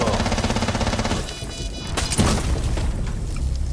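A dull boom bursts out amid dense, continuous Rainbow Six game noise, followed by a second thud shortly after.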